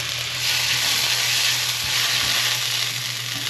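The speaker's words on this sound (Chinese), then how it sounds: "炒一炒，炒到杏鲍菇的水分释放出来，现在放入红喜菇" King oyster and red shimeji mushrooms stir-fry in a pan, a steady close sizzle with soft hissing that swells and eases under occasional scraping of the spatula, with a low hum beneath.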